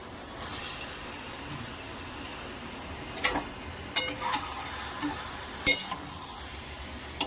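Chicken cooks in spice masala in a pan with a low, even sizzle, broken by a few sharp metallic clinks of a utensil against the pan; no voices.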